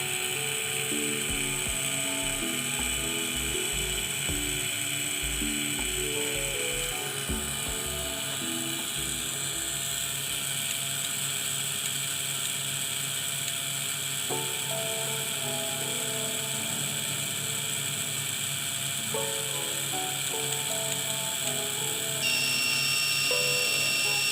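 A small DC motor in a Wemos D1 temperature-controlled setup whines continuously as it spins faster, a steady high-pitched tone with shifting pitched components and low electrical buzzing pulses in the first ten seconds.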